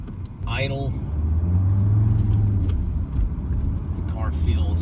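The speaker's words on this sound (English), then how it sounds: "Motor is silky smooth like a sewing machine." A 1997 Mercedes E290 Turbodiesel with a 5-speed manual idles in a low, steady, smooth hum, near and even, with a few brief faint sounds over the top.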